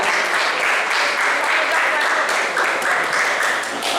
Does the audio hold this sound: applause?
yes